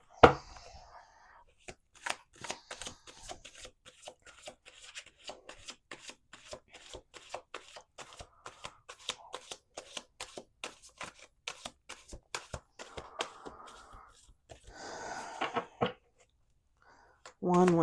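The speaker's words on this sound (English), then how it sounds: "let's do 2 more shuffles." Tarot cards being shuffled by hand, a long run of quick crisp riffling clicks and flutters at close range, with a few brief bursts of talk near the end.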